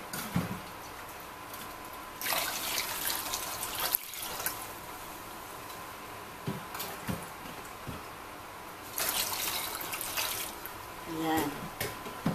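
Tap water runs and splashes as fish are rinsed in salted water for bagoong isda, coming in intermittent bursts with handling noises in between and a voice speaking at moments.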